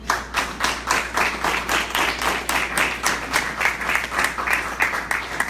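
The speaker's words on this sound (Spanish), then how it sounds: "denle un aplauso al Señor" A church congregation claps in steady rhythmic unison, a fairly close, bright and even beat of many hands that carries on without a break and has no talk over it.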